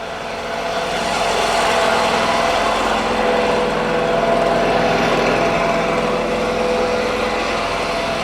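A HotJet 2 trailer-mounted jetter with a 37 HP fuel-injected engine runs steadily at 2,000 RPM, a close, loud, even engine drone that holds without change throughout.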